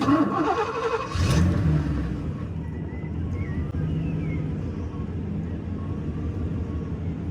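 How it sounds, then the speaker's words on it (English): A Porsche 928 engine, semi-warm, settling into a steady idle after a brief rev at the start, a continuous low hum throughout. "So we've got a nice steady idle."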